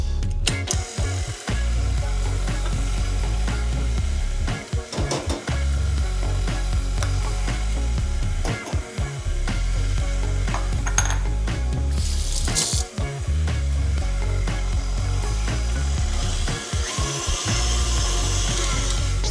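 An electric mixer whirring through Earl Grey tea cake batter as the last of the flour goes in, a loud continuous motor drone with brief dips and scraping bumps against the bowl.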